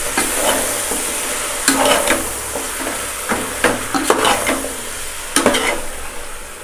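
Chicken and tomato masala stirred in a hot pan for majboos, a loud close sizzle and fry with repeated scraping strokes of a spoon against the pan, no voices.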